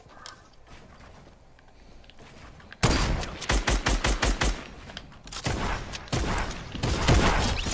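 A video-game firefight opens with a sudden, loud string of rapid shots after a quiet stretch, followed by further heavy bursts of gunfire, close and unbroken by speech.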